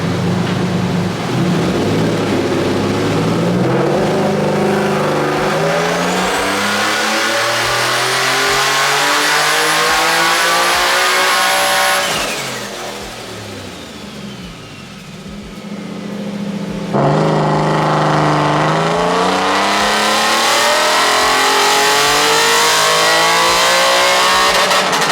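A single-turbo, HR-swapped Nissan S15 revs hard on a dyno, the engine climbing loud and steadily through a long pull. It drops briefly to a lower note, then surges back to full-throttle roar, close and continuous with no voices.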